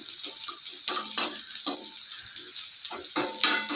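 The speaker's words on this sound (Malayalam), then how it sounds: "ഞാൻ വെച്ചെന്നാൽ ഇങ്ങനെ ഒന്ന് താളിച്ചൊഴിച്ച് നോക്കാമെന്ന് കരുതി." Hot seasoned oil is poured over a pot of curry to temper it, giving a bright crackling sizzle that swells in repeated louder bursts over a steady hiss, with no voices.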